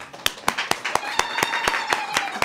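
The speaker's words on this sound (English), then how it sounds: "A round of applause for Mkhulu." Audience applause with a quick, fairly regular pattern of sharp claps rising over a clattering wash of hands, close and moderately loud, with some voices mixed in.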